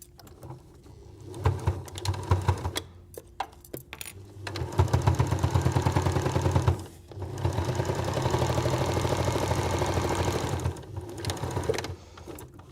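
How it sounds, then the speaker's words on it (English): A sewing machine stitches straight down the side seams of a reusable sandwich bag through several fabric layers, running in steady rapid bursts with short pauses between, close and loud with no talking. "sew straight down the sides through all of those layers"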